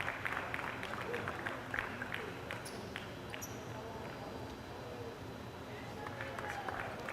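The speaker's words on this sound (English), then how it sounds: "Gets a round of applause by the crowd." A crowd at a youth basketball game applauds an injured player, with steady scattered clapping and murmur filling the arena while a commentator talks over it and occasional sneaker squeaks are heard.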